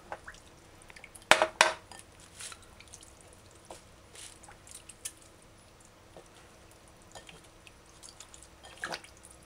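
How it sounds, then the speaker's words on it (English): Raw chicken is rinsed with water and distilled white vinegar in a bowl, giving close splashes and drips with a few brief clinks against the bowl between quieter moments. "now I'm going to rinse it properly"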